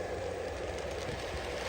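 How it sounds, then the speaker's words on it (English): A Lionel O gauge model train runs slowly on an outdoor FasTrack layout, giving a steady rolling rumble and faint wheel clatter, close and continuous with no voices over it. "I tend to run this train pretty slow out here"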